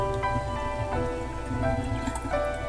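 Rinse water draining off washed rice, a steady trickling and dripping stream with small splashes, close and continuous over a short stretch, no talk.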